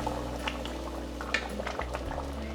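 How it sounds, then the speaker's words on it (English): A one-pot pasta fagioli soup, Olive Garden copycat style, at a vigorous boil in a pot, with close, steady bubbling and scattered pops over a low, constant kitchen hum. "Ooh, we got quite the boil going on here."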